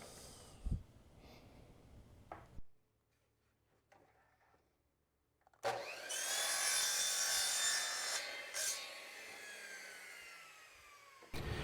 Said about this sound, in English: To make the cuts, I just make a mark on the PVC with a Sharpie and cut it to length with a miter saw.